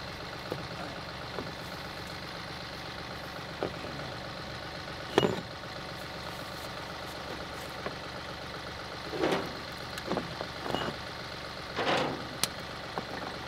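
A tractor engine idles steadily at moderate distance, a low continuous rumble with a few faint knocks and clanks over the top.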